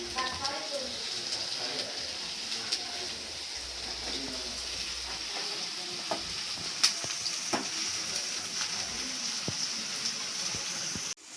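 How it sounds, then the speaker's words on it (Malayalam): Ingredients for a Kerala crab roast fry with a soft, constant sizzle in a pan while they are stirred with occasional light scrapes and taps, and a voice talks over the cooking. "എന്നിട്ട് നമ്മൾ ഇളക്കണം കേട്ടോ നന്നായിട്ട്."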